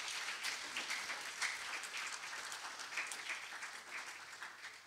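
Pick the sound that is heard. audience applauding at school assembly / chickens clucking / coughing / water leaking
audience applauding at school assembly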